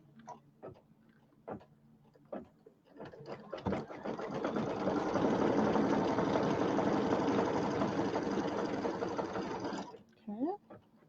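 A sewing machine runs close along a pillow border in one sustained whirring burst of about six seconds. Quiet clicks and handling come before and after it.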